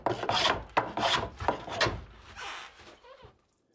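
A fine hand plane works across wood for a wagon wheel in a workshop, giving several quick rasping strokes in a rough rhythm that end in a short scrape, with no talking.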